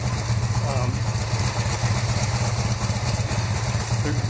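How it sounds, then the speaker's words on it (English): A motorcycle engine idles steadily up close during carburetor synchronization on a cafe racer build, a low, even rumble with a regular pulsing throb and no other sounds. "Okay, so we have the engine idling"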